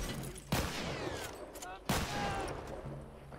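Bursts of rapid video game gunfire crackle at moderate volume, with two sharp volleys a second or so apart amid continuous background game noise.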